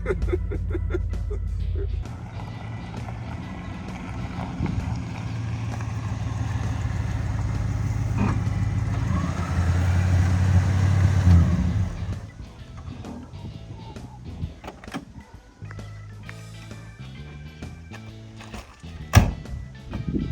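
A classic Oldsmobile's engine runs with a loud, steady low rumble for about twelve seconds, then cuts off, leaving quieter thumps and clicks nearby.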